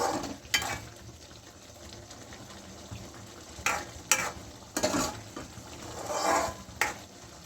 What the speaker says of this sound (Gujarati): થોડીક હલાવ્યા કરવાનું. ભાજીમાં સેવમાં મસાલા બધા એડ થઈ જાય સાથે.